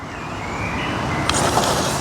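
A brushless FCX24 K5 Blazer RC crawler motor whines steadily as it climbs an obstacle, a continuous close electric drone with a brief sharper burst near the end.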